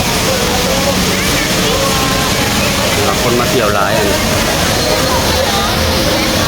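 A waterfall at a tourist spot in Singapore roars loudly and steadily throughout, with crowd chatter around it and someone talking over the rushing water.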